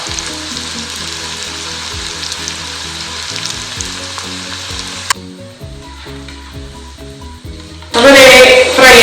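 Tender young jackfruit pieces frying in a pan make a loud, close, continuous sizzle with stirring noises. The sizzle thins out partway through, then a sudden louder burst of sound comes near the end.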